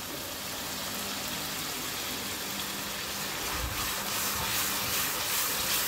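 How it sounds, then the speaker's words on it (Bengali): Fish fry in oil in a frying pan, giving a steady, broad sizzling hiss that grows slightly stronger toward the end, with no voices over it. "মাছগুলো দেওয়ার পরে এখন ফ্রাই প্যানে যে তেলটুকু ছিল অবশিষ্ট সেটাও দিয়ে দিলাম"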